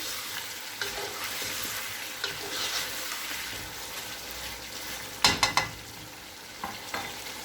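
A dish simmering in a covered pan is stirred, giving a soft ongoing sizzle with a few scraping strokes and a quick cluster of sharp clinks against the pan near the end.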